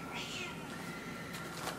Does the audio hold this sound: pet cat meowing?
yes